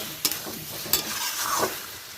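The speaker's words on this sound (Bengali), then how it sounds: "ভেজে রাখা আলু অ্যাড করে দিলাম আবারও নেড়ে চেড়ে চাপা দিয়ে দেব" Fried potatoes stirred into a chicken curry in a pan, a soft sizzle with a few sharp utensil scrapes and clinks, close up and without talk.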